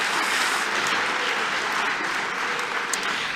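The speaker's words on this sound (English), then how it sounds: "I still want to give a round of applause to that." An audience at a Melbourne Polytechnic 2024 graduation ceremony applauds in a dense, steady wash of clapping that fills the whole hall without pause.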